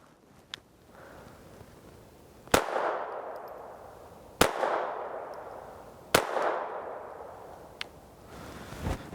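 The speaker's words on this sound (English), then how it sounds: "we are going to do our 3-shot accuracy test" Three loud, close gunshots from a Taurus TX22 Compact .22 pistol fired in an accuracy test, spaced about two seconds apart, each followed by a ringing decay, with a few faint clicks between them.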